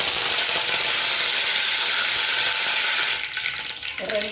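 Mustard seeds and curry leaves sizzle loudly in hot oil while tomato thokku is being made, a dense crackling hiss that eases and turns more uneven near the end.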